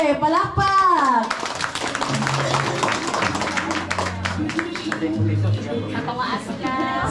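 Wedding guests clap for newlyweds at a traditional Filipino wedding in the province, a steady burst of applause carrying through most of the clip amid chatter and children's voices, after a brief moment of speech at the start.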